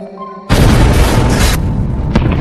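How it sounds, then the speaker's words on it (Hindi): A sudden loud explosion erupts after a quiet moment, its rumbling roar sustained and then slowly fading, with a second sharp burst near the end. "उधर जो भी धमाका कर देता है।"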